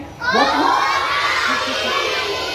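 A crowd of children at a summer camp in Atladara, Vadodara shouts Om Shanti together in one loud, sustained group cry that rises sharply and holds for a couple of seconds.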